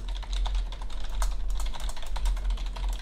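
Rapid clicking keystrokes on a computer keyboard, close and steady with brief irregular pauses, no talking over it.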